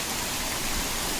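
Water rushing steadily over slippery rocks near Kiliyur waterfall, a close, continuous broadband wash with no pauses.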